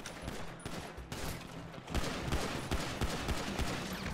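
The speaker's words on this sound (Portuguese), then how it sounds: "Fica voando tiro pelo corredor do bagulho loucamente aqui." Rapid gunfire bursts in a modded GTA V Online deathmatch set in a corridor, dense repeated shots and fusillades continuing loud and close throughout.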